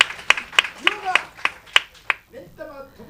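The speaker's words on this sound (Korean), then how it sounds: "아멘으로 박수를 주님 앞에 돌리시기 바랍니다" A church congregation claps in a quick, fairly even run of sharp hand claps near the front, then fades out while a voice begins speaking over the tail end.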